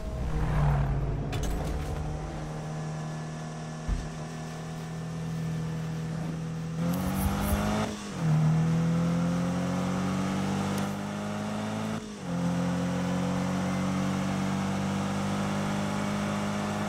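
A car in a Need for Speed game revs and accelerates, its engine tone sweeping upward through several gear changes with short dips between shifts, loud and steady with no talking.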